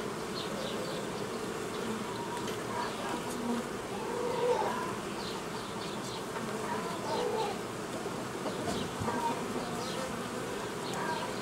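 Honeybees hum around an open hive nucleus with a mated queen, a dense, soft, steady swarm drone with occasional louder passes of single bees close by, no speech.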